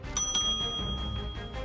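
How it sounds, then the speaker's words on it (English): A debate timer bell rings at a televised Virginia Senate debate held at Norfolk State University, giving a bright metallic ding with a sustained ringing tone over a dense, loud background. "When time is up, you will hear this bell."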